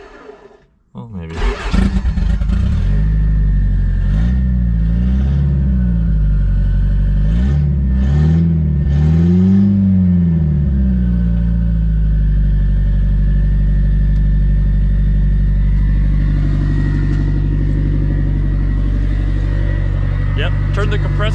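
A Toyota minitruck with a turbocharged 22RE engine starts, then rumbles at a loud, close idle. It revs up and down through the middle and settles into a steady drone, with people talking over it.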